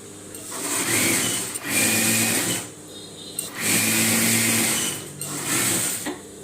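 A sewing machine stitches fabric for a blouse in bursts of steady whirring, stopping and restarting several times, close and fairly loud with no talking.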